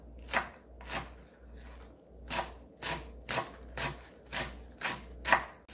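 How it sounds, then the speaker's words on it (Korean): A knife slices a handful of green onions finely on a board, giving about ten crisp, evenly spaced chops, close and moderately loud, with no voices. "쪽파 한 줌. 송송송송 썰어주세요."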